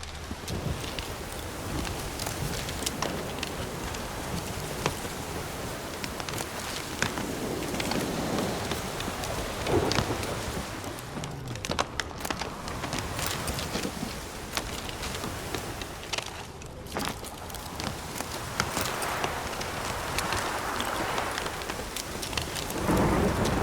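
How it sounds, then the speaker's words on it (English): A thunderstorm in The Witcher 3: steady heavy rain pouring on surfaces with gusts of wind and low rolling thunder rumbling through, continuous and immersive with no voices. "Storm, damn it."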